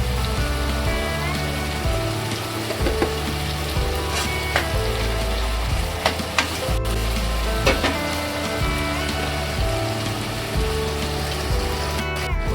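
Asafoetida (hing) hits hot oil in a pan while cooking methi matar pulao, giving a steady, dense sizzle and crackle close up, with a few sharp clinks of a utensil and no talking.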